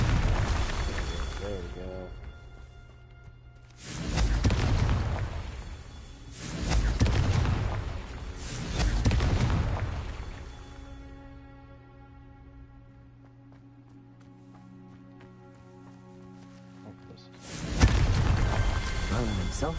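Confringo spell explosions in the video game Hogwarts Legacy: four heavy booming blasts, each with a long rumbling decay and ringing tail, with a quiet lull before the last one and a voice speaking briefly.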